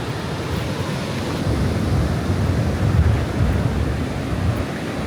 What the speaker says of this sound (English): the waves are just crashing up onto the rock side.